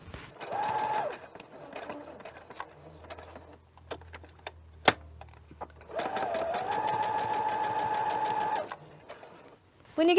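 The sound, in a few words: sewing machine sewing mask seam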